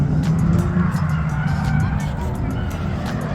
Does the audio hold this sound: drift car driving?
yes